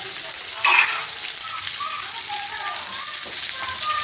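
Green garlic sautéing in a pan with other ingredients for a Karaikkudi-style okra tamarind dish, a steady, loud hiss and crackle of frying throughout, with a brief clatter near the start.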